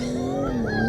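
A BMW Z4 M40i accelerates hard in sport mode, the engine note climbing and briefly dipping at a shift before rising again, heard loud from inside the cabin.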